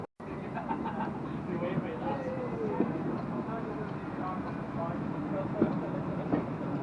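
An amusement park ride train at Ocean Beach Pleasure Park runs with a steady rumbling clatter and occasional squeaks and clanks, and faint voices sound in the background.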